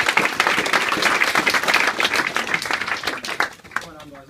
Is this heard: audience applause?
yes